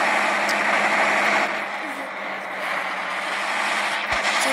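A tractor engine in the Farming Simulator video game runs with a steady, moderately quiet mechanical hum that dips slightly midway and then holds an even idle-like drone.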